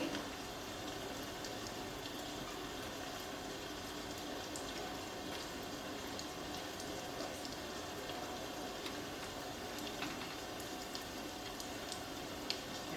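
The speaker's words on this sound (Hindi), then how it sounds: "ये बारिश अभी तक रुकी नहीं।" Rain sound effect plays during a theatre performance in an auditorium, a steady, moderately faint patter of drops continuing throughout with no speech.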